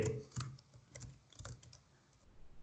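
Typing on a computer keyboard while entering a simple addition, heard as a few scattered, fairly faint key clicks in a quiet room.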